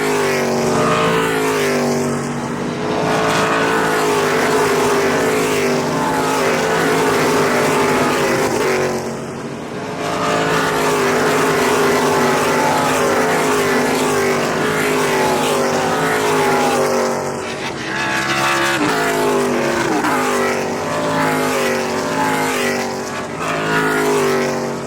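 NASCAR race cars roar past at Lime Rock Park, loud and continuous, with engine notes that rise and fall as each pack sweeps by, and brief dips between passes.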